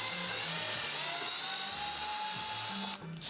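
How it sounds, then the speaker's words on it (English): A power drill with an 8mm bit whines steadily as it bores slowly into a wooden dining chair, its pitch holding even, ending with a brief crunch as the bit breaks through. "finally an 8mm bit, and I'm drilling nice and slow here"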